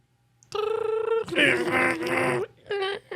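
A voice imitates a dial-up internet modem, giving a close, loud run of tonal beeps and screeches followed by harsher buzzing bursts, and ends with a short squeal after a brief pause.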